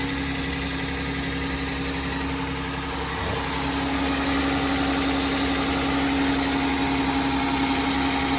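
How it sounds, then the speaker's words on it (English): A van engine idling in a steady, even drone with a constant low hum and mechanical vibration during alternator and oil-change maintenance, growing slightly louder partway through and holding close and continuous. "I was idling my car, and I'm idling it now"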